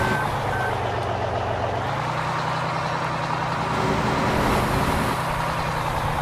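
A truck reverses in Farming Simulator 2015, its backup alarm beeping steadily over a constant low engine drone, no talking throughout.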